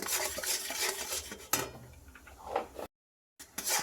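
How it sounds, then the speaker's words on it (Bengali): A spoon stirring chili powder into a cooking mixture for dahi vada, with scraping and clinking against the pan in steady strokes, close and fairly loud, broken by a short silent gap. "ভালো করে নাড়াচাড়া দেবো কিছুক্ষণ।"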